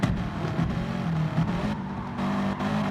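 Honda NSX race car in a racing video game, its engine droning steadily and loudly throughout with small shifts in pitch, no voices on top.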